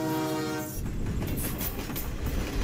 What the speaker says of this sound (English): Hurry, the train is coming!